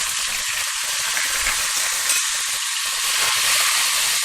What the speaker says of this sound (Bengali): টমেটো কুচিটা আমি একটু নেড়ে চেড়ে নিচ্ছি আগে